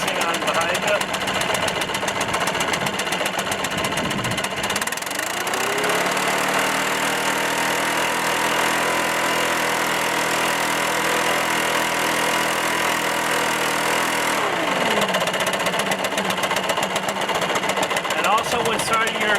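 A Stihl BR 600 Magnum backpack blower engine idles with a steady, close, rattling two-stroke putter, then revs up and settles back to idle, with someone talking over it.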